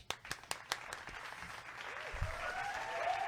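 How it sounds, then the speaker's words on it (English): A small group claps in a quick, short burst: half a dozen faint, distinct hand claps at the start, then the sound fades into soft room noise. "everybody hand clap"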